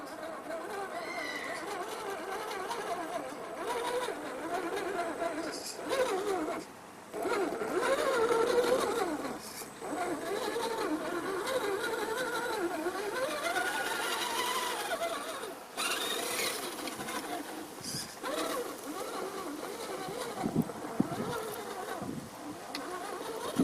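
A small RC rock crawler, an RGT Crusher with a 15 kg steering servo, grinding along under power with a continuous high electric motor whine that rises and falls with the throttle, and a voice talking over it.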